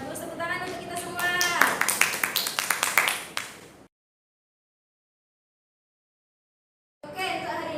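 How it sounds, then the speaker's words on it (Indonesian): Students in a classroom clap together in a short burst of rhythmic applause that builds and then cuts off into silence, with voices mixed in before sound returns at the end. "Tepuk tangan untuk kita semua."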